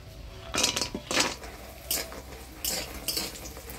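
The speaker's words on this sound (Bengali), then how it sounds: "ডালে বড়িটা আমি সরষের তেল দিয়ে ভাজি নেব।" Dried lentil dumplings fry in mustard oil while a metal utensil stirs and clanks against the pan in repeated close, bright bursts, with no talking.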